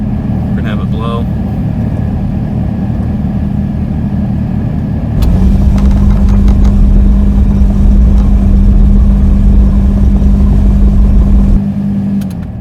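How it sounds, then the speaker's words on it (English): A car engine idles roughly with the AC blowers on max; a steady low engine rumble with a fan-like hiss that grows louder partway through, close by, with a person talking over it at the start. "Blowers are on to low, and it's still sputtering right now."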